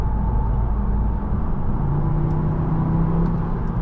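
A 2014 Volkswagen Beetle 2.0T R-Line with about 93,000 miles, heard from inside while driving: a steady, loud low cabin rumble with road noise and a faint rising engine tone, no talking.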